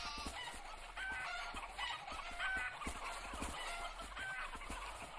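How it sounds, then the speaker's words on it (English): In the video game Shroud of the Avatar, a chicken clucks and squawks repeatedly at a steady, busy pace over a faint, continuous game ambience, with no talking. "There's a flying chicken."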